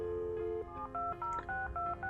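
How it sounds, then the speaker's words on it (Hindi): Telephone keypad dialing, a series of distinct two-tone DTMF beeps in a steady rhythm of short presses, close and clear over a quiet low hum, with no speech. "शार्लेट ने अपनी माँ को फ़ोन किया"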